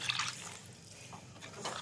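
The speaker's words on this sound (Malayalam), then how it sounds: "ഇനി അതിന് വേണ്ടുന്ന ബാക്കി വെള്ളവും കൂടെ അതിനകത്ത് ഒഴിക്കാൻ പോകും" Remaining water is poured into a pan of fish head curry, producing a short close splashing and gurgling pour that swells at the start and again near the end.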